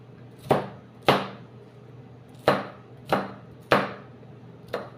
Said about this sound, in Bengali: আমি তরমুজের সোলকাটি সব কেটে নেবো ইনশাল্লাহ